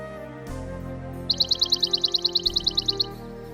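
Birds chirping in spring: a quick, evenly spaced run of about fifteen high, bright chirps rises clearly above a soft, steady background hum, then stops.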